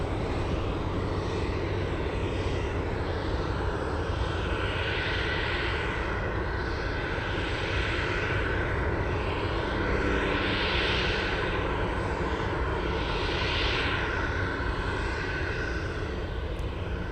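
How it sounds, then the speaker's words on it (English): Dash 8 turboprop taxiing toward a runway at Anchorage airport, a steady propeller drone with a slow rising and falling pulse, heard from a distance over constant airport background noise. "And we have a good-looking Dash 8 heading to runway 33."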